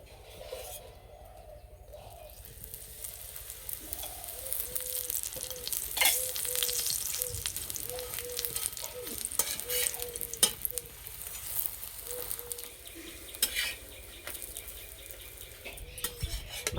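Soft layered yogurt paratha fries in oil in a pan. The sizzle crackles up and down while a spatula scrapes and taps against the metal, all close and with no voices.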